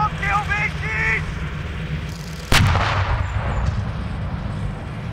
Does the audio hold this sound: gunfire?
yes